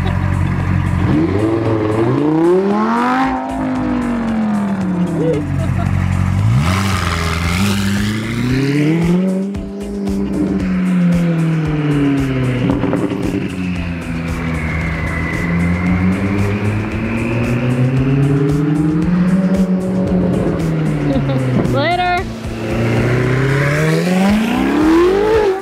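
A rebuilt Ferrari 458 engine revs hard and repeatedly, its pitch sweeping up and down in loud, close surges for the whole stretch, with no voices.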